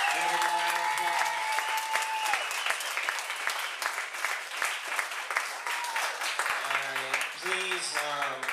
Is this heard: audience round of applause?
yes